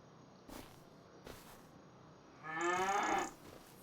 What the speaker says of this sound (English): Oh, look at the baby cows.